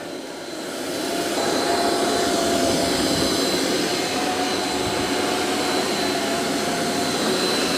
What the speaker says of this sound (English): So it's vacuuming and mopping.